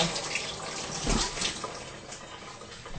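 Green peppers being rinsed under a running kitchen tap, a steady close splash of water with a brief louder gush partway through.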